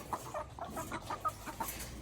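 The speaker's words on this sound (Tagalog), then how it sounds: "Kawawa rin itong mga manok na to. Init na init sa panahon." Chickens in hot weather cluck in short, soft calls scattered over a steady low background, mid-distance and moderately quiet, with no one talking.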